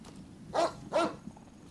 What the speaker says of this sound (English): These dogs are huge.